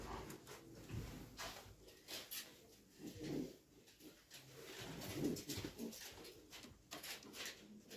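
Soft, low cooing of a white, black-eyed pigeon repeats at an unhurried pace, faint and a little distant, with light background noise.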